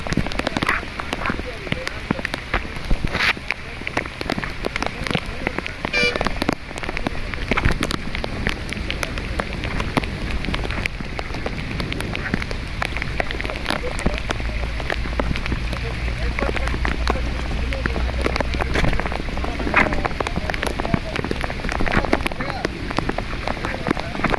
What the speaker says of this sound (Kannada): ಮಳೆಯಲ್ಲೂ ಕೂಡ ನೀರಿನೊಳಗೆ ಈಶ್ವರ ಮಲ್ಪೆ ಕಾರ್ಯಾಚರಣೆಯನ್ನು